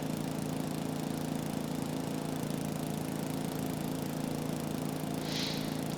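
A grass mower runs in the Farming Simulator 22 game, its engine droning loud and steady at a constant pitch throughout with no change in load and no talking.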